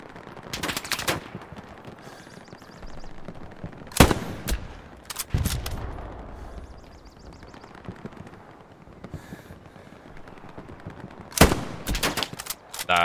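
Light machine gun fire in a shooter video game, coming in a few sharp bursts separated by quieter stretches of background combat ambience.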